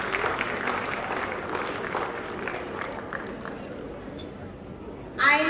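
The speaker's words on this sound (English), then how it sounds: "Round of applause." Graduation ceremony audience at a dental college giving a round of applause, sustained clapping that slowly fades, with a brief louder burst near the end.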